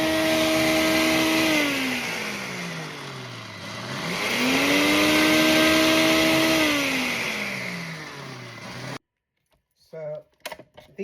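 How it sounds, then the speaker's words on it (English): A blender grinds ingredients down into flour for keto bread, its motor whining loudly and steadily, dipping in pitch and rising again as the load shifts, then cutting off abruptly to brief rattling and a voice. "I'm going to grind it down to a flour"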